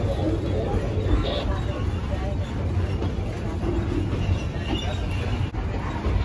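Railroad cars on a museum train ride roll along with a steady low rumble and clatter, continuous and moderately loud, with faint voices of passengers underneath.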